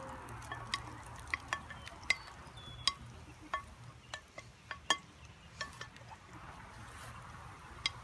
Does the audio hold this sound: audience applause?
no